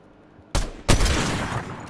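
Loud, close gunfire erupts in a Fortnite Chapter 5 match. Two sharp blasts land a split second apart, followed by a sustained roar of rapid shots.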